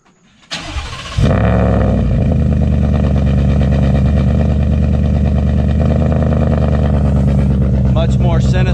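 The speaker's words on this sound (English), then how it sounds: "Here's a quick start with the second resonator installed. It's not a cold start, but you'll get an idea." The engine of a supercharged Ford F150 with a second resonator fitted cranks briefly, catches with a loud bark, and settles into a deep, steady, throaty idle, heard close and alone.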